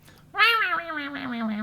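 A person's voice imitates a cat, giving one drawn-out, wavering meow that starts high and slides down, close and fairly loud.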